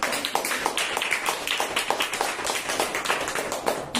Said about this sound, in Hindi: हम जोर से ताली देंगे प्रभु